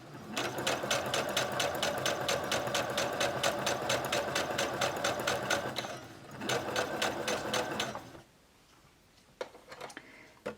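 A sewing machine stitches around a felt carrying case, whirring in a fast, steady rhythm of needle strokes for several seconds, pausing briefly, running again, then stopping, with a few light clicks afterward.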